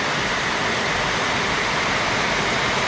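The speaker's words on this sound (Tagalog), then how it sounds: "Isang maulan na hapon, may bagyo." Heavy rain pours down during a storm on a rainy afternoon over a flooded road, a steady, loud, unbroken hiss with no voices.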